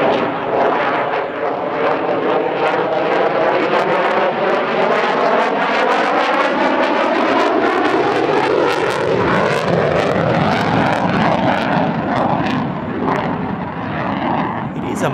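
A fighter jet flying an aerodynamic airshow display at the Dubai Airshow, its loud continuous engine roar rising and shifting in pitch as it passes overhead, with a voice talking over it throughout.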